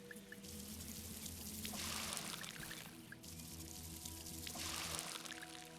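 Water pours steadily onto plants in the space-farming game AstroBotanica, a continuous gurgling stream in two long surges with a brief pause between, loud and close with no talking.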